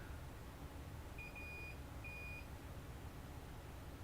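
Two short electronic beeps sound from a tester during a retro console controller repair, the first longer than the second, thin and clear above a quiet background hiss.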